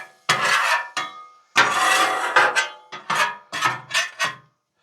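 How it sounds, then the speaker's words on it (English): Rough scraping of a metal spatula across a Blackstone flat-top griddle, pushing debris toward the drain, in several long rasping strokes followed by shorter quick scrapes, close and loud with no talking. "scrape it to wherever your drain hole is. Scrape it right out the back."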